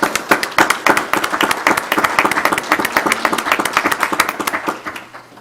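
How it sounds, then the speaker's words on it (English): Applause from a small audience at a school district board meeting, with dense, uneven claps that stay fairly close and strong throughout before easing slightly at the end. "let's just give them a round of applause."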